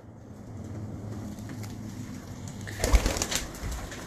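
A yellow pigeon with a silver neck ring coos softly in the background over a low hum, with a slightly louder burst of bird sound near the end.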